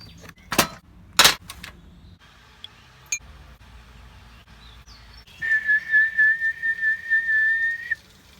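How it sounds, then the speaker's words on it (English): A person whistles a steady, sustained high tone for a few seconds after some clicks and clatter near the start. "That's actually me whistling."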